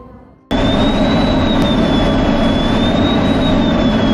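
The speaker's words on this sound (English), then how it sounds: "As soon as the plane's wheels touched the ground, the tail of the plane burst into flames." Jet airliner landing at Sheremetyevo Airport with its tail on fire, a loud, continuous engine roar with a steady high whine, starting abruptly and holding close and full.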